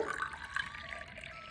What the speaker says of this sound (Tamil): சுத்தமான தண்ணி ஊற்றிக்கிட்டேன்